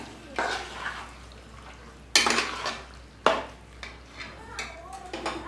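Spoon scraping and stirring a pot of chicken curry with blended tomato poured in, a few sharp metallic clanks against the pot over a soft background simmer.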